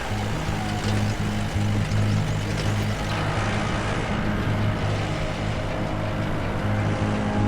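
A vehicle grinds along a bumpy Himalayan mountain road toward Everest, its engine drone and rattling rumble steady and loud throughout with no pauses.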